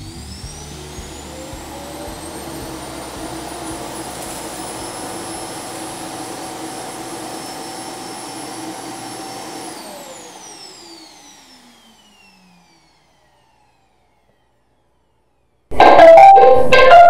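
A Roomba S9 robot vacuum fitted with a taped-on Dyson cyclone mod runs with a loud, steady whine and roar, then spins down and fades to silence before a sudden clatter at the end.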